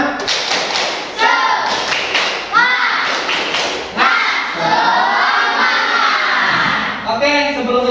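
An Indonesian Islamic religious education class does a rhythmic clapping chant, with loud unison claps and thumps under children's voices chanting together at close range.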